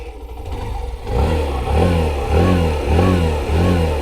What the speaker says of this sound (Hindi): साउंड सुनते हैं हम सबसे पहले इंजन का, कि इंजन कैसा साउंड करता है